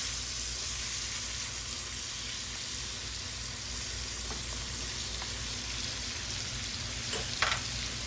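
Mushrooms, ginger and onions stir-fry in a hot pan for a shrimp and snow pea dish, giving a steady, close sizzle throughout with faint scraping of stirring and no talk.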